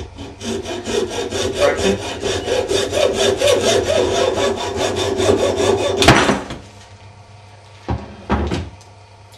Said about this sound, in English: just grip the pump and the vise and use brute force and cut it just next to the lid